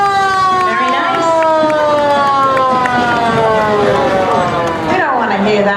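A loud wailing siren from an old-fashioned Clarkstown Police Department car sweeps steadily through its rising and falling tones, close by, with a parade crowd murmuring underneath.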